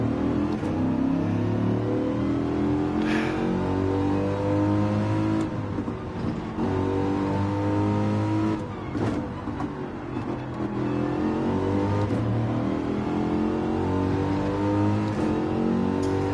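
Race car engine in Gran Turismo VR, driven with a wheel: a loud, continuous engine note rises and falls with gear changes throughout, revving and easing off through corners.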